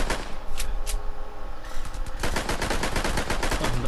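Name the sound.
gunfire in a dinosaur egg hunting video game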